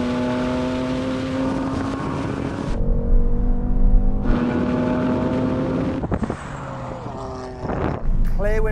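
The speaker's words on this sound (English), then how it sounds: "This launches really well. I actually got decent traction." A BMW M3 Touring estate launching hard in a drag race against an AMG C63 S Estate, its engine revving loudly and climbing through several gear changes with brief shift pauses, close and dominant throughout.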